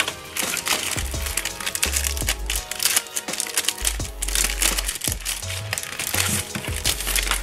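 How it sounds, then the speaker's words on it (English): Cardboard pieces are cut to size by hand, with continuous crinkling and crunching, repeated sharp snips and rustling handling noises close up, no talking. "get all these cardboards out and go ahead and start trying to cut them"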